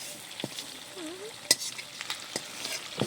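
Spiced meat curry, mangsho kosha, frying in a pan as a spatula stirs it, with a quiet steady sizzle broken by a few sharp utensil taps and scrapes.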